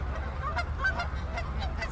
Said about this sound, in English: See these geese right in front of me?